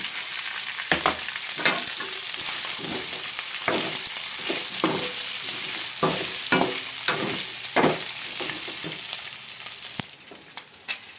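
Chicken and pork adobo meat sizzles steadily in a pan while being stirred, with repeated scraping and clattering strokes over the continuous close frying hiss.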